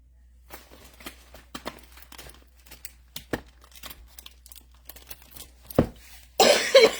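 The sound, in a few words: coughing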